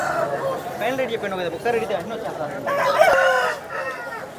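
A rooster crows at the Vijayawada chicken market, a bright call rising above overlapping market chatter and nearby clucking fowl.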